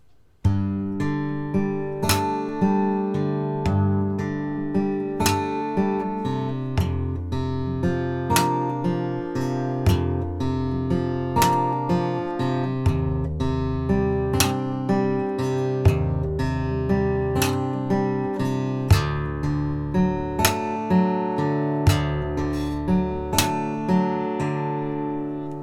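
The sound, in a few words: guitar arpeggio from Metro 2033 song, picking two strings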